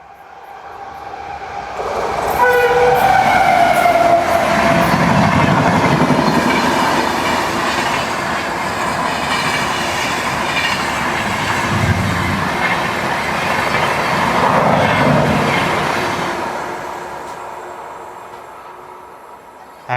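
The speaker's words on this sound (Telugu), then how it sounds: "ఇప్పుడే బెంగళూరు శతాబ్ది అయితే ఓవర్టేక్ కొట్టింది" The Bengaluru Shatabdi express overtakes on the adjacent line, a loud, close rush of passing carriages with rhythmic clickety-clack and a faint wheel squeal, swelling and fading over about twenty seconds.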